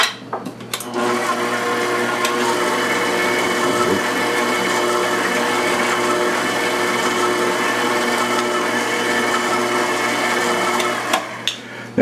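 A stand mixer beats cake batter for a cranberry orange bundt cake, a steady loud motor whir with a constant hum that runs unbroken for about eleven seconds before slowing at the end.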